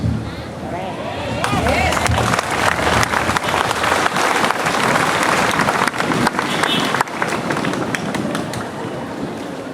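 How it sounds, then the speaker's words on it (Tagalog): Audience at a mayoral flag-raising ceremony in Antipolo bursting into sustained, loud applause that swells and holds for several seconds, with a voice speaking over it. "Pumapalakpak, pumapalakpak po kayo"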